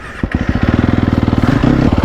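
A Sherco enduro motorcycle with a freshly rebuilt top and bottom end revs hard and close, its engine firing in a rapid, steady pulsing rhythm that holds and swells slightly toward the end.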